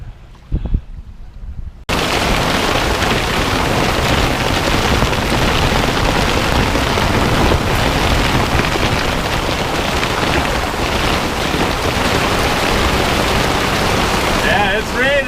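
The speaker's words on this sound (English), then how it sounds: "it's raining" Heavy rain pours onto a sailboat lying at anchor: a loud, dense, unbroken downpour roar that starts abruptly after a brief quieter moment and stays close and steady.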